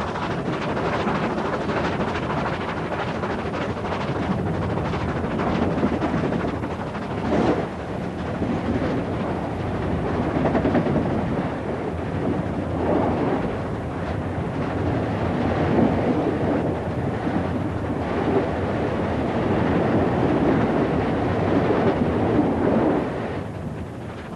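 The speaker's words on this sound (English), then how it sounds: "the ear-splitting blast of the exhaust is the exuberant music of power" The exhaust of steam locomotive 3439, 3,000 horsepower pulling a 1,200-ton train, roars continuously and loudly, a dense, unbroken rumble that holds steady throughout.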